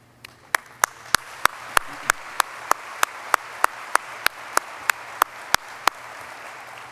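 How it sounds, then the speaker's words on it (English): Applause from an audience at an ICC board president's farewell: a run of about twenty sharp, evenly spaced claps sounding steadily over a soft background murmur, with no talk. "I want to applaud each of you and thank each of you"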